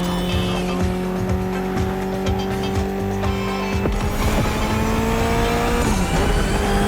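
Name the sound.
Mitsubishi inline four-cylinder car engine, video game The Crew Motorfest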